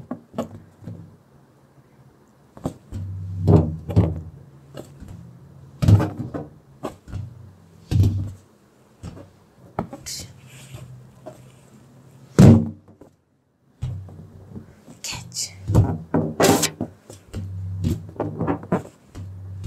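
Balloons are tossed back and forth in a game of catch, giving soft hollow thunks and bumps at irregular intervals, close and fairly quiet, with short pauses between the hits.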